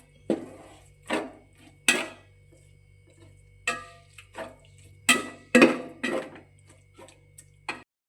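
Vinegar is stirred into fish pickle masala in a pot, giving about a dozen separate close scraping and knocking strokes at an uneven pace, with quiet gaps between them and a faint steady hum underneath.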